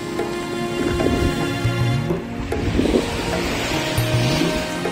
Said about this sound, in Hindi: और बड़ी बड़ी लहरें।